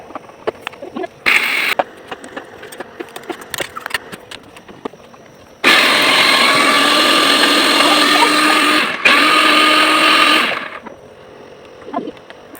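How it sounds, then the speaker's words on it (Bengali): An electric kitchen mixer grinds spices for cooking at home: a brief whirring burst, then a loud, steady grinding roar lasting about five seconds before cutting off, with quieter household clatter around it. "এখানে আমি রান্নার জন্য কিছু মশলা তৈরি করে নিচ্ছি মিক্সারে"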